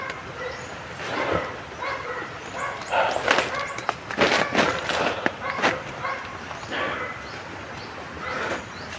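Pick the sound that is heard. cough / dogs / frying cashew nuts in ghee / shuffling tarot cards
dogs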